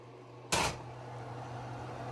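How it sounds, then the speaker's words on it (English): Oven door pulled open at home to take out a baked mac and cheese with a golden brown top: a single short thud and clatter, close and fairly loud, followed by a steady low kitchen hum. "I'm gonna take this out the oven."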